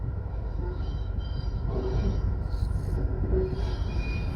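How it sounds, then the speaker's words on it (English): A Jamaican train engine pulls into Old Harbour Station with a loud, continuous low rumble of engine and rolling wheels, faint metallic squeals rising now and then over the steady roar. "So this is the actual train engine that runs in Jamaica."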